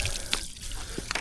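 Water running from a hose fitted with a ball valve, feeding a surface cleaner for washing an old concrete driveway; a steady, fairly quiet rushing flow with light dripping and spattering, no talk.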